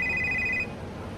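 A mobile phone left behind in a preschool rings with a steady electronic tone that is loud and close for a moment, then cuts off, leaving quiet room noise.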